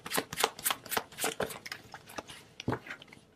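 Tarot cards are shuffled in quick, close riffling bursts, a rapid series of crisp papery flicks in an uneven rhythm, with no talk.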